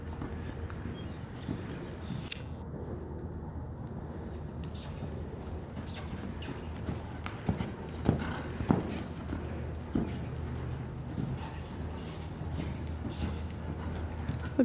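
A horse canters with soft, rhythmic hoofbeats in an outdoor setting, heard at a moderate distance under steady background noise, the thuds growing a little more distinct midway through, with no voices.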